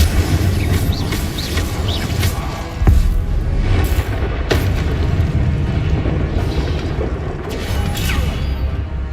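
Fire spell cast during combat in the video game Hogwarts Legacy, a dense rumbling blast with a sharp impact near the middle and further crackling hits over a continuous low roar of game sound.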